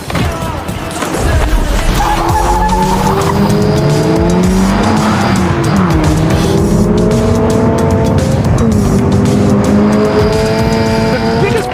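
A Toyota GR86 accelerates hard with screeching tire squeal and skidding, its engine revving up and down through loud, continuous, close-up driving noise.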